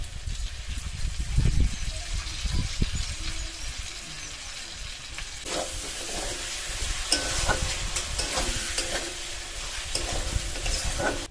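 Chicken curry with spices and yogurt being stirred and sautéed in a pan over medium heat, with steady scraping strokes over a continuous sizzle that turns louder and hissier about halfway through.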